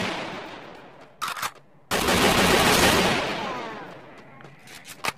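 Gunfire in the Free Fire battle royale game: a short burst of shots, then a loud sustained blast that slowly fades, followed by a couple of faint sharp reports near the end.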